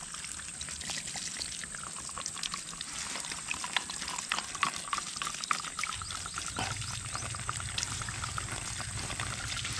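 Steady water pours and splashes from a DIY deep well pipe drawn up without a pressure pump, a continuous gushing rush with a slight shift in tone partway through, no voices.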